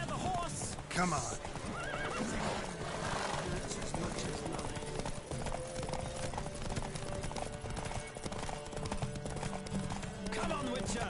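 Rapid hoofbeats of a galloping horse in a race in The Witcher 3: Wild Hunt, with whinnies cutting in, steady and close over a busy game soundtrack, with voices talking over it.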